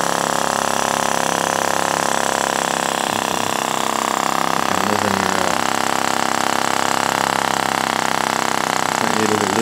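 Homemade flame sucker vacuum engine, built by a 12-year-old, runs steadily with a continuous close hum and mechanical whir, with faint irregular knocks underneath.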